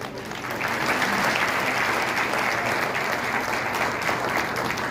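A large audience claps loudly and steadily at a felicitation ceremony in Maharashtra, with dense sustained applause that builds quickly and holds throughout.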